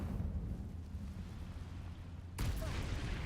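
An Incendio fire spell bursts in Hogwarts Legacy, a sudden loud whooshing blast that cuts in over a low rumbling game background near the end.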